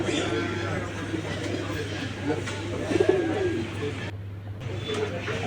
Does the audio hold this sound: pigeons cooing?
yes